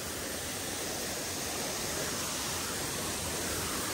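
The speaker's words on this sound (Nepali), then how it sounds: "त्यहाँबाट पानी झरिरहेको छ झर्ना" Water pours from a waterfall near Kageshwori temple, a constant broadband rushing roar, steady and fairly close, with no other sounds standing out.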